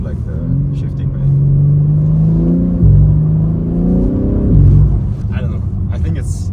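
A car engine revs up steadily, drops abruptly at each gear shift, then climbs again, heard from inside the cabin.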